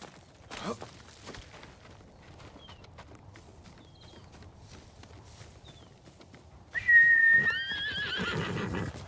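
A horse whinnies loudly in the Ghost of Tsushima video game, a sudden, close, high neigh breaking in near the end after quiet footsteps and faint ambient game sounds.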